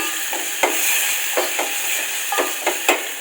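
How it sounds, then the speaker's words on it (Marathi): Tomatoes being stirred into a frying guar (cluster bean) bhaji in a Malvani-style pan, steady sizzle with several sharp spoon scrapes and knocks against the pan at irregular intervals, close and moderately loud. "नंतर त्यामध्ये टोमॅटो टाकते मी, ते पण थोडं मिक्स करून घेते, एकजीव करूया."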